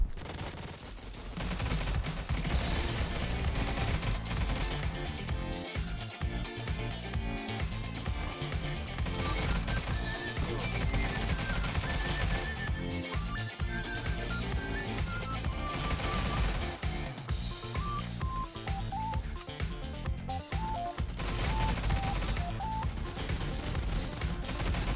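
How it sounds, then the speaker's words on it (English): Sustained A-545 rifle fire in the video game STALCRAFT, with loud, dense rapid automatic bursts that run almost continuously and pause only briefly, with no talk over them. "Let's quickly test the gun in session mode and then we are going to jump into open mode."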